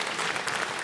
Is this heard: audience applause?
yes